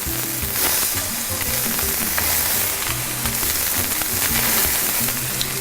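Chicken wings laid skin side down in a hot pan sizzle and crackle steadily, a dense, even frying hiss that stays close and continuous with no voices.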